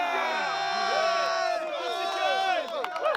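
Crowd at the ALGS Worlds 2023 esports event in Birmingham cheering and whooping for Oxygen Esports, loud and close, with shouted voices and excited talking mixed in throughout.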